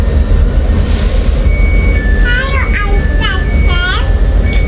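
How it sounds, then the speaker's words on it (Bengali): Another train pulls in alongside on a rail line in Venice, Italy, heard from aboard a train: a loud, constant rolling roar with a run of high metallic wheel squeals rising and falling in the second half. "এখানে আরেকটা ট্রেন চলে আসছে"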